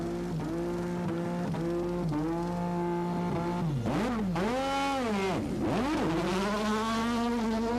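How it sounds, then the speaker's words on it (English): A 1987 Williams Formula 1 car's engine revs loudly and close during a long pit stop. The pitch is held high and steady at first, then swoops up and down repeatedly as the throttle is blipped. "Nelson kept the revs up and didn't stall the engine this time"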